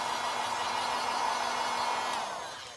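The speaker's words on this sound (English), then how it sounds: "I'm just gonna hit this with a dryer" A hair dryer blows with a steady airy whir at close range, holding constant before tapering off slightly at the end.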